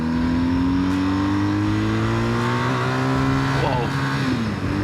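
A BMW R 1250 GS motorcycle accelerates hard on a country road near Plouvien, its close engine climbing in pitch through several gears with short shifts between them.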